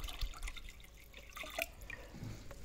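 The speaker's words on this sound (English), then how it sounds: "I just add water here." Water trickles and drips into the reservoir of a DIY Christmas tree watering system, a quiet uneven splashing and dribbling heard alone at close range.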